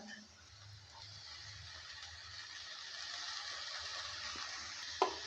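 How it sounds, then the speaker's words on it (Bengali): Fenugreek greens stirred in a frying pan with bean seeds and potato, giving a steady low sizzle with soft scraping of the spatula and a sharper clack near the end. "মেথি শাকটা দেওয়ার পর ভালো করে আবারও নেড়ে চেড়ে দিচ্ছে"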